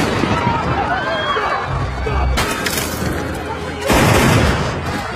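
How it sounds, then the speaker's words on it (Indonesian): Bursts of gunfire from an action film crackle amid a noisy, chaotic scene with shouting and commotion, the loudest volley near the end. "polisi melancarkan tembakan membuat situasi kacau"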